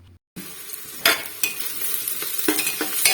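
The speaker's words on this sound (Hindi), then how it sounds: "मैं ये प्याज भून रही हूँ" Onions fry in a pan for matar pulao with a close, bright sizzle and repeated spoon scrapes and stirring bursts, no voices.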